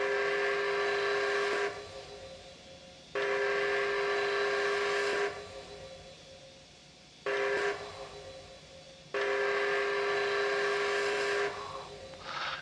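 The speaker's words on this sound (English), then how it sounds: "Of course, this is the Empress, so you do have the secondary air whistle." The secondary air whistle of the Empress 2816 steam locomotive, a CP H1b, in the Trainz game, sounds in four sustained blasts of one to two seconds each, loud and steady with hissy edges and short gaps between.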